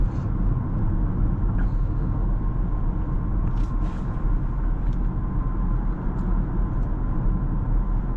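A 2024 BMW X7 M60i SUV cruises in comfort mode, its steady low engine and road rumble droning continuously from inside the cabin, with a few faint ticks and clicks on top.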